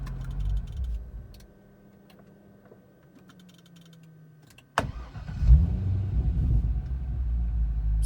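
A Corvette with a loose relay connection in a garage, idling, then shut off with faint ticking in the quiet, before the starter snaps and the engine catches and settles into a loud rumbling idle.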